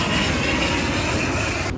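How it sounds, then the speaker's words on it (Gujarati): A low-flying airplane passes close overhead, a loud steady broadband engine roar that holds throughout and cuts off abruptly near the end, with no talking. "મસ્ત મજાનું આવી ગયું છે વિમાન"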